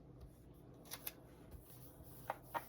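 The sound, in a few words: paper being trimmed in a journal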